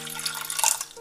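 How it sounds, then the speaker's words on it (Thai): Water pours into a cooking pot, about half a cup, for simmering pumpkin with sugar for a Thai sweet coconut milk dessert; a short, close trickle and splash with light dripping. "ก็ใส่น้ำ"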